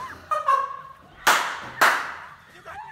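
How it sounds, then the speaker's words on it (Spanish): Two sharp, loud claps in quick succession, struck right in someone's face, ringing out between bursts of excited talk. "Le ha aplaudido en la cara y le ha pasado lo que ha pasado."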